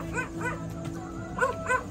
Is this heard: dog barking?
yes